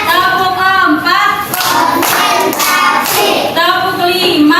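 First-grade pupils in a primary school religion class clap their hands in a counted rhythm. Several sharp claps sound among loud chanting children's voices.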